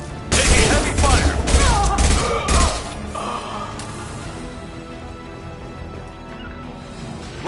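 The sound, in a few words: heavy gunfire in Mass Effect 2 video game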